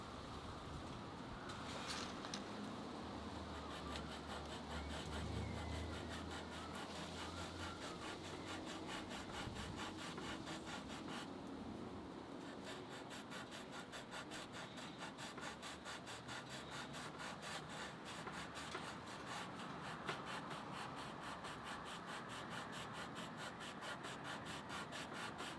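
Sandpaper stuck on with double-sided tape is rubbed back and forth over the headstock of an Epiphone guitar neck, giving a continuous, fast, raspy scraping rhythm. It is close and steady throughout, with no talking.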